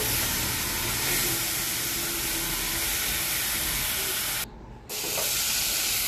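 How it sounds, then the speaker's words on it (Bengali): Spice paste with chilli powder is stirred and fried in a pan for egg tarka, producing a steady, loud close-up sizzle and hiss with a brief drop partway through, then resuming. "এবার ভালো করে নাড়বো। ভালো করে নেড়ে মশলাটাকে ভালো করে কষাবো।"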